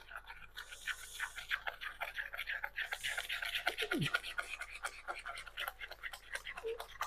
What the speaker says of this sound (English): Now I use my broken whisk that keeps popping out.